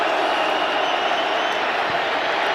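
A stadium crowd cheers at Lumen Field during an NFL game, a dense, continuous roar that stays loud and steady throughout, with no single voice standing out.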